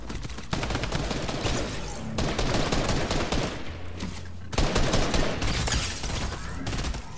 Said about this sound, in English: I heard a minigun.